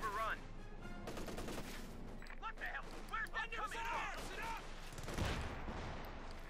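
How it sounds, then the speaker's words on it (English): Light machine gun and rifle fire in the Company of Heroes 2 strategy game, bursts of rapid shots and explosions piling up under constant commentary, dense and busy throughout. "The Orbital doing what they can here with the light machine gun."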